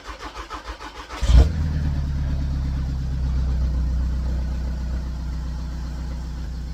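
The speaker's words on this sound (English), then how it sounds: "And we're going to give it a start up here" A VW Jetta TDI diesel engine cranks with about a second of rhythmic starter pulses, catches with a loud burst, then settles into a steady, even idle close by.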